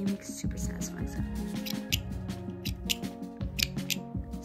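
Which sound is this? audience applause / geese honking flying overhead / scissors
scissors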